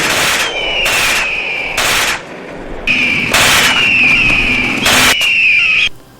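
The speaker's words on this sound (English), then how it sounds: "the audio level is off for the gunfire, and it gets pretty annoying because it's louder than everything else in the movie" Machine gun fire from the low-budget film Birdemic, mixed louder than the rest of the soundtrack: repeated loud bursts of rapid shots with a piercing ringing tone running through them, pausing briefly between volleys.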